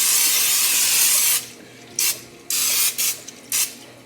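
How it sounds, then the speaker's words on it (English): Cooking spray hissing onto a baking dish in a home kitchen, a long steady burst followed by several short sharp spritzes, close and clear with no talking. "I'm gonna spray my baking dish with a little"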